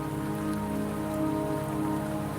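Steady rain falls in the video game Wuthering Waves, a dense, even patter on surfaces with a faint tonal hum underneath and no talking.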